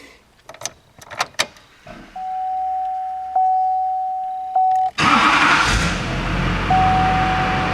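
A 2005 Chevrolet Silverado Duramax diesel pickup, just primed after water in the fuel, cranks with a steady whirring starter and electronic chime tones, then catches and roars into a loud, rough idle up close.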